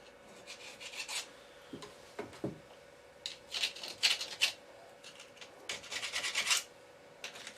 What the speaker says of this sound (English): I'm going to have to give it a bit of a scrape before it can come off